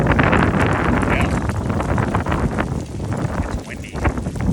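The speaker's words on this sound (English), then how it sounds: "It's windy." Strong wind gusts roar steadily across the microphone outdoors beside a Chevrolet Trailblazer on a spring storm-chasing road trip in Alexandria, Louisiana, a loud broadband rush that rises and falls throughout.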